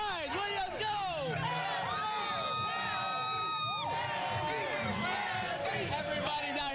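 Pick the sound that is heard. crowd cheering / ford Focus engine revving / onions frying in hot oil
crowd cheering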